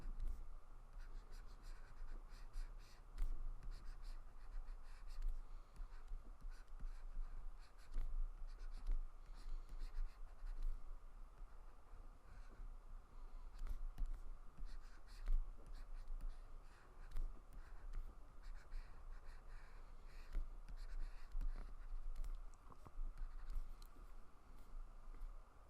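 A pen or pencil scratches across paper while lips are drawn, making faint, irregular strokes and ticks close up in a quiet room.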